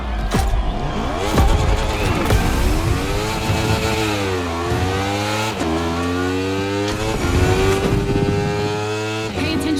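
Racing engines revving hard in the Motorfest video game during a Red Bull Speed Clash time attack, a loud continuous roar whose pitch climbs and drops repeatedly with gear shifts, close and alone.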